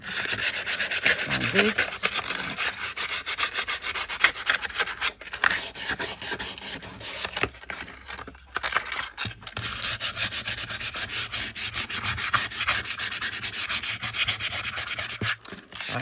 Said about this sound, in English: I need to sand it to age it a little bit